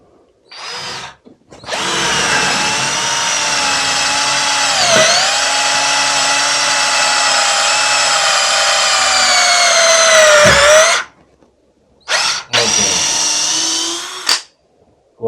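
A DongCheng electric drill bores through a block of wood about 6 cm thick. It gives one long, loud, close whine that dips briefly under load, then cuts off, followed by short bursts of the motor.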